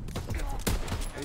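Rapid bursts of machine gun fire from a WW2 video game, a dense chattering volley over about a second with sharp transients, loud and close.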